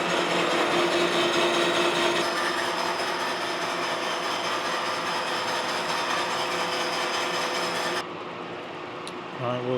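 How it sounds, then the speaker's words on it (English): Milling cutters machine a straight edge casting on a mill table, a loud steady grinding whine running continuously before cutting off abruptly near the end, leaving quieter shop hum. "I'll let it cut all the way until this back cutter gets through as well"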